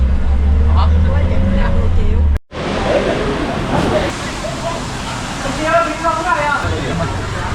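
Heavy bus engine rumble and road noise throughout, on the way to a rafting site near Da Nang, Vietnam, with people talking over it and a brief cut near the start.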